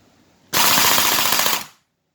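Airsoft gun running Perun AB++ trigger programming fires one loud, close full-auto burst of about 1.2 seconds, a fast even rattle of shots that stops abruptly into silence.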